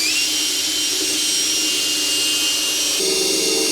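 A drill boring a hole during an excavator hydraulic diverter valve installation, a loud steady high-pitched whine that holds constant throughout, shifting slightly in tone partway through.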